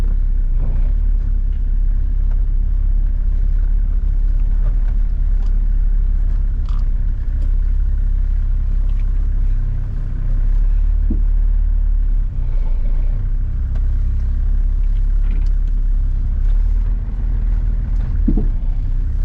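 A restored car's engine runs on its first drive after being refilled with radiator water, a steady low rumble that stays loud and continuous throughout, with no talking.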